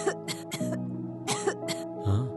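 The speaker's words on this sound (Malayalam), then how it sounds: "യൂഷ്വൽ ചുമയും ജലദോഷവും." Someone with a usual cough and cold coughs repeatedly, several harsh close bursts in quick succession with throat clearing between them.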